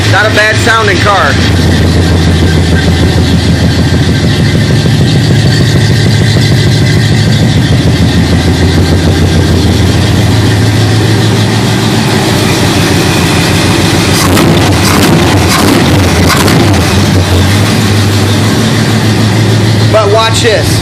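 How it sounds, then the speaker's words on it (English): A Chevrolet Camaro Z28 engine keeps running on after the key is switched off, a loud, steady idle rumble that carries on throughout with stutters near the end, while someone talks over it. "See how it continues to run for a couple more seconds, and then it acts like it runs out of gas."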